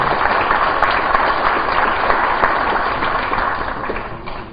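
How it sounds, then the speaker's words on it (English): Audience applause at a University of Guam presidential lecture, a dense patter of many hands clapping at once that holds steady and then gradually thins toward the end. "And also a round of applause for our President, Dr. Robert Underwood"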